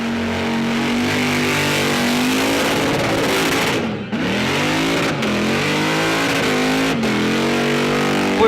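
Supercharged 540 cubic inch V8 burnout car with a 1071 blower and twin 1250 Dominator carbs, revving loudly and continuously up close, the pitch sweeping down and back up as the throttle blips.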